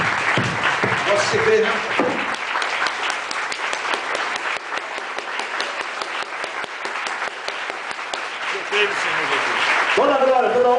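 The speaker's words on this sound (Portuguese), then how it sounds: "Aplauda o Senhor e se coloque em pé." A congregation in an evangelical church applauds together in loud, sustained clapping, while a preacher's voice carries over and between the applause.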